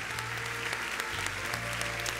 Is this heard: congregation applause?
yes